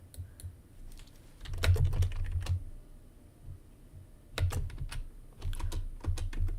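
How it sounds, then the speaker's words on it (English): Typing on a computer keyboard at close range, quick bursts of clicking keystrokes separated by short pauses. "Are you typing into the emoji bar?"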